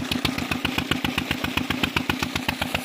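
A small, old engine drives a village tubewell water pump, chugging loud and close in a fast, steady, even pulse with no other sound over it.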